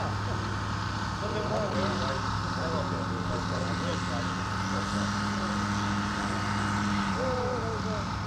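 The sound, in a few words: scale model Piper Cub aircraft engine taxiing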